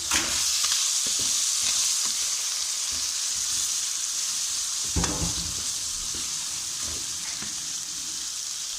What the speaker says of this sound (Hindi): इनको 2 मिनट तक फ्राई करेंगे।